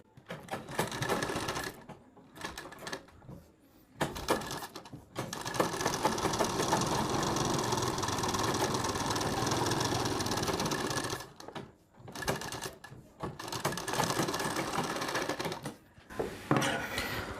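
A sewing machine stitches a blouse collar in close, sustained runs, pausing briefly near 2–4 seconds and again around 11.5–12 and 16 seconds before starting up again.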